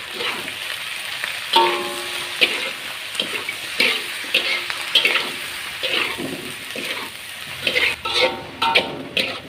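White mustard greens stir-frying in a pan for a tempeh and tofu dish, with a steady moist sizzle and repeated scraping and tossing sounds from stirring.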